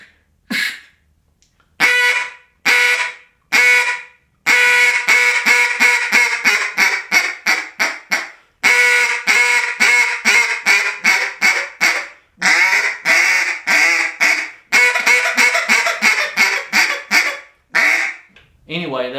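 A duck call blown with hot air and a short grunt at the start of each note gives a long series of quacking calls, loud and close, in rhythmic bursts and rapid descending runs, with brief pauses between sequences and no voices.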